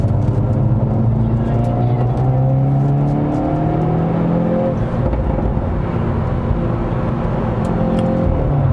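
Hyundai Veloster N with 8-speed DCT switched into N mode on a circuit, a loud continuous engine drone with rising revs and gear changes, and someone talks over it throughout.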